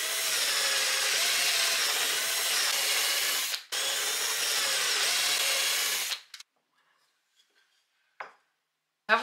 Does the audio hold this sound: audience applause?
no